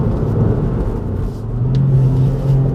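A 2018 Ford Fiesta ST engine drones loud and close while driving through twisty corners in second and third gear, a steady rumble that dips briefly, then climbs in pitch as the revs rise.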